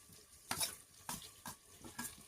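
Potatoes, tomatoes, garlic and spices are stirred in a pan, bursts of scraping and soft sizzling at roughly half-second intervals, faint and close, with no voices.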